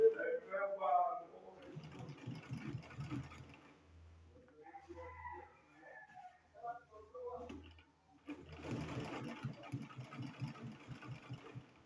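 A sewing machine stitches along the edge of a satin sleeve in short mechanical runs with pauses between them, close by, while someone talks over it.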